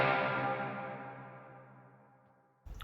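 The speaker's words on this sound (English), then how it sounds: "if I crank down the low end, meaning it's not absorbing any low end, but crank up the high end, we'll get a very dark reverb" A single sustained guitar chord rings out through a dark reverb on a Quad Cortex, its muted, low-heavy tail decaying smoothly over more than two seconds before a new note cuts in.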